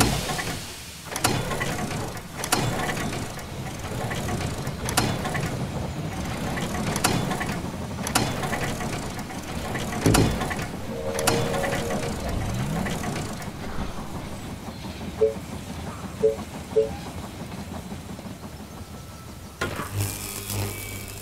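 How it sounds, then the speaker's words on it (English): A train arrives at a station in the zombie strategy game They Are Billions. Steady mechanical clunks repeat at an even rhythm over a low engine rumble, followed by a few short tonal chimes near the end. "The train has arrived at the station."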